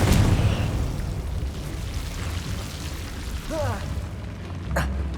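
A Confringo blasting spell explodes in Hogwarts Legacy with a loud burst at the start that rumbles and fades into a low, lingering roar, with smaller magical whooshes and a zap later on.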